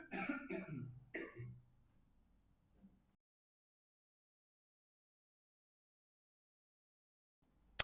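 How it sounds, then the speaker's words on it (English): A few harsh coughs and throat clearing up close at the start, followed by long silence and a faint click at the end. "Sorry, I will need to cough for a minute."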